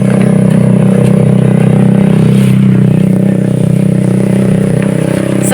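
A motorcycle passes close by on a street during a walk, its steady engine drone loud and sustained throughout with a low rumbling hum and slight rattling.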